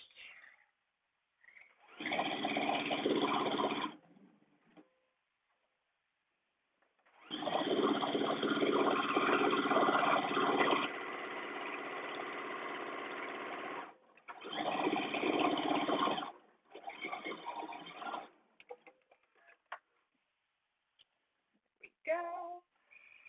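A sewing machine stitches a sleeve seam on a pre-serged oyster wrap blouse, running in several bursts of steady whirring separated by pauses, close and fairly loud, with small handling clicks between runs.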